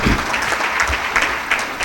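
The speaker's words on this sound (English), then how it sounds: "May we give them a hand of applause" Audience applause at the closing session of a conference, a steady dense wash of clapping from a seated crowd lasting just under two seconds, with no speech over it.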